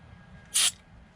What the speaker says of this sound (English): with some contact cleaner just to get that oil and stuff off there